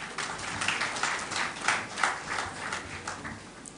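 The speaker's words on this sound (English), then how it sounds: "all deserve a round of applause" Applause from the audience at the launch of the 2022 Multidimensional Poverty Index survey results: a fairly quiet, distant patter of clapping that rises and falls a little over a few seconds.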